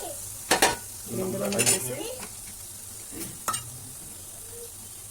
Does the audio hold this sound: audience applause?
no